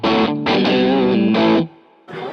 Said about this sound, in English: to like into good mid-gain crunch tones